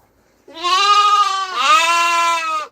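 Sheep and a ram on a farm bleat loudly and close, one long wavering call rising again midway, standing alone against a quiet background.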